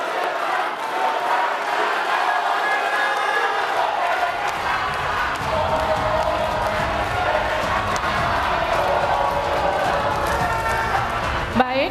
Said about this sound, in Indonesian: Berikan aplaus dan apresiasi untuk 3 calon wakil presiden yang sudah menyampaikan visi,